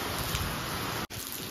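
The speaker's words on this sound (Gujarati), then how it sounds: "પવન સાથે વરસાદ ચાલુ થઈ ગયો છે" Wind-driven rain pours steadily over a village, a close, constant broadband rush with only a momentary break.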